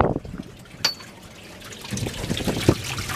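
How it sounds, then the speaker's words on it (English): Water pumping through a fill line into the front live well of a Ranger 2510 boat, heard as a close, steady trickling and splashing with a few louder spurts toward the end. "See water pumping in there."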